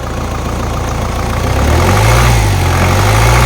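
Mahindra Thar 4x4 engine running close and loud, its low drone climbing in pitch midway as the throttle is raised, then holding at a higher, steady hum.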